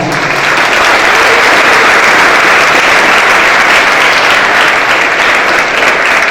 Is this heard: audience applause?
yes